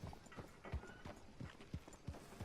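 Horse hooves clip-clop in a steady, moderately quick rhythm through Red Dead Redemption 2, arriving outside a town sheriff's office, each footfall distinct over faint background ambience.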